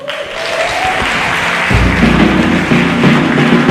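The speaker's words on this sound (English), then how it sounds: "Keep clapping, keep clapping, keep clapping." Sustained applause from an audience at a university security summit, loud and steady with a tonal musical hum underneath.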